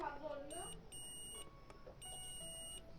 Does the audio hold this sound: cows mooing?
no